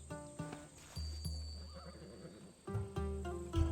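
A horse in Assassin's Creed Odyssey gives two loud, close neighs, with hooves clip-clopping between them and a soft synthetic hum running underneath.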